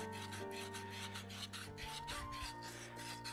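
A stuck brake caliper piston being scrubbed free of rust, giving a steady rasping, filing-like scrape that runs continuously at close range over a background hum.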